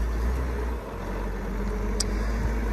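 A 2000 Komatsu WA320-3MC wheel loader with about 14,000 hours runs as a steady, low engine rumble at a moderate distance, with a brief faint squeak midway and no voices.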